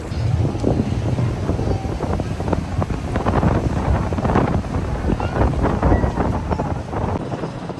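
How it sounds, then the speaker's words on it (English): Aboard a ferry from Milsons Point Wharf to Circular Quay across Sydney Harbour, steady wind buffets the microphone over a low engine rumble and washing water, with faint voices in the background. "I am absolutely catching a ferry from Milsons Point Wharf back to Circular Quay"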